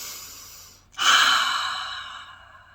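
A single deep breath: a faint inhale, then a brief pause and a loud, airy exhale that slowly fades, close and alone with no talk.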